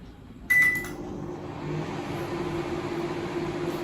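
A homemade UVC sterilizer box starts up with a short electronic beep, then settles into a steady low hum and whir that continues evenly close by.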